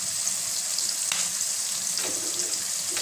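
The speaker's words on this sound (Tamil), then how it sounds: "முட்டை வந்து உடச்சி ஊற்றிக்கோங்க" An egg cracked into a hot pan of sautéed onions, frying for pasta: a steady broadband sizzle throughout, with a couple of brief crackles and splatters standing out, no voices.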